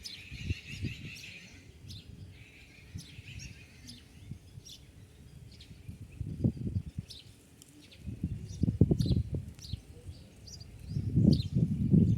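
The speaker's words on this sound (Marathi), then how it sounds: "पॉज घ्या आणि पक्ष्यांचे आवाज ऐका आजूबाजूला चाललेले" Birds chirp and tweet outdoors around a rural de-addiction and rehabilitation centre at Machhindranath Chincholi, Ghansawangi, Jalna, with scattered short calls near and far over low rumbling thumps and background noise.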